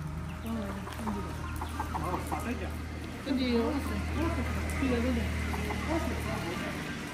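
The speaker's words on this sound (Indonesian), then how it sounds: "kasih makan ayam-ayam kami." Farm chickens clucking and calling in short repeated bursts as they are fed, fairly close, over a steady low hum, with a person talking at times.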